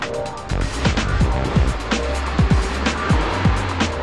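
Mercedes-Benz W245 B-Class compact car driving on a road in Catalonia, a steady engine and road drone with repeated sweeping whooshes and tire noise as it moves along at speed.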